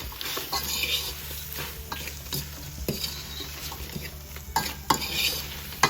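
Salt and pepper shrimp are stirred in a deep pot as the oil sizzles and fries, with a steady scraping of the spoon against metal and a few sharper clanks, close up and with no talk.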